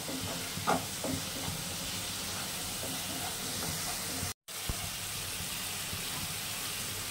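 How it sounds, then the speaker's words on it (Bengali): Spice masala sautés in a pan for a fish roe dish, a steady close sizzle and hiss with a few light stirring scrapes, broken by a brief cut of silence midway, with no talk. "এবার এটা মশলাটা কষাবো যত সময় কাঁচা গন্ধ না যাবে"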